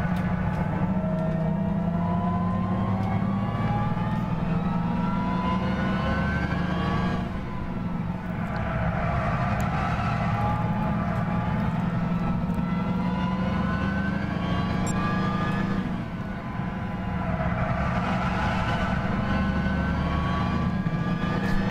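A classic muscle car's engine racing in Gran Turismo 6, a steady loud drone with rising pitch sweeps as it revs through the gears, heard alone without talk.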